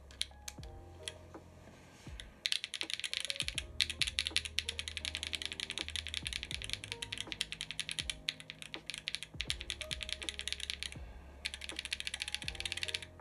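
Clacky keystrokes on a Sangeo 65 mechanical keyboard, struck directly on Ice Candy switches in rapid, uneven bursts with short pauses, close and crisp, with a low background hum throughout.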